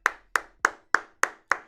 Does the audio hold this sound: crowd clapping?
yes